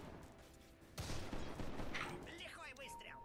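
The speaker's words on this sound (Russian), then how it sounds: "Лихой выстрел." A single sharp sniper rifle gunshot in Dota 2 cracks out after a brief quiet stretch, followed by a jumble of game sound effects and chirpy electronic tones.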